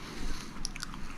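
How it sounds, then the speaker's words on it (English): Someone munching popcorn close to the microphone, a few quiet crunchy bites and chews in quick succession. "By the way, I'm eating popcorn now, so that's what that noise is."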